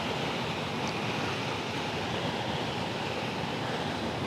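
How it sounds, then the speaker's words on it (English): Steady broadband rush of water pouring over a river weir, continuous and fairly close, no voices, with a constant roar throughout. "lovely weir."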